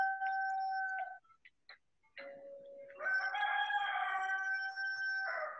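A rooster crows loudly and close among backyard chickens in a home garden, two drawn-out calls separated by a short pause.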